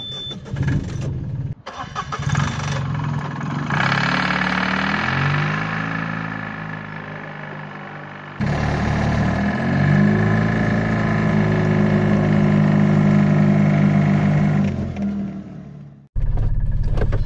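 A Ligier JS50 Young microcar cranks and starts, then its small engine idles and revs in rising and falling swells, drops briefly and restarts, running loud and close with no talking.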